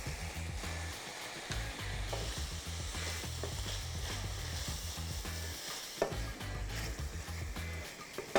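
Mushrooms tipped into a pan of sausage browned in oil and deglazed with white wine sizzle steadily and loudly, with stirring scrapes and spatters layered over the continuous frying hiss.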